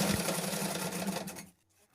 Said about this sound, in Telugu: ఇప్పుడు మనం దీని మీద ఒక స్టిచ్ వేసేసుకొని రావాలి